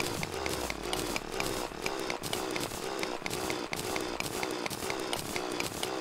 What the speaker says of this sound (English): So I'm drilling down into it.